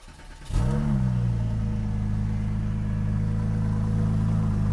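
A car engine cranks and catches, briefly revs up, then settles into a steady, loud, rumbling idle.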